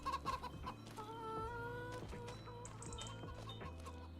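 Chickens in the Farm Sim 25 farming game cluck and squawk repeatedly at close range, with irregular bursts of clucking over a low background hum and no voices.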